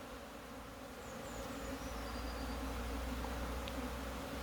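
Bees buzz around beehives in winter, a dense continuous drone of many insects close by that swells slightly louder partway through, with a few individual bees passing.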